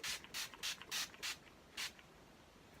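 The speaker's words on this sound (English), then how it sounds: "I'm just gonna set my face with this Skin to Nivea face setting spray" Quick misting bursts from a Nivea face setting spray bottle, about six short close hisses in a rapid rhythm, a pause, then one more spritz, quiet with no talking.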